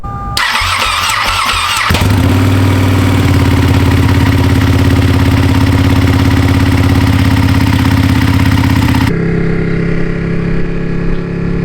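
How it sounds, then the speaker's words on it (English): Ducati Panigale motorcycle on a cold start: a brief starter whine, then the engine catches with a loud, close rumbling idle that holds steady for several seconds before dropping to a lower settled idle. "a cold start for the Ducati Panigale"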